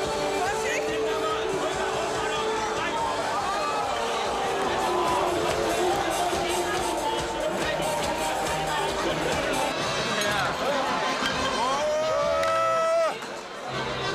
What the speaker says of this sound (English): Here in a genuine Bavarian beer hall on the fairgrounds